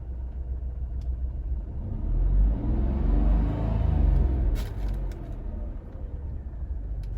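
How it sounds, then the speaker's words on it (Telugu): Renault Kiger RXT engine revving as heard from inside the cabin, a muffled low rumble that swells twice as the throttle is raised and eased, steady and alone without talk. "ఇంజిన్ రేస్ చేస్తాను ఒకసారి వినండి"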